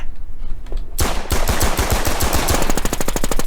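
Rapid automatic gunfire from the War Inc video game erupts loud and close after a quiet first second, a steady stream of sharp shots continuing to the end.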